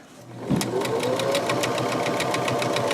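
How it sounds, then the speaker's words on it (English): A sewing machine runs steadily while stitching a fabric pillow, a close, continuous mechanical whir with rapid regular needle ticks that starts after a brief quiet moment and continues to the end. "Put the needle down, lift up the presser foot, pivot and turn."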